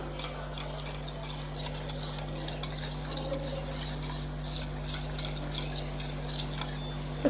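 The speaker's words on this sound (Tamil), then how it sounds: "தண்ணி சேர்த்து நல்லா கலந்து விட்றலாம்" A spoon stirs a thick mixture of rice flour and water in a bowl, a quick, regular scraping and tapping over a steady low electrical hum.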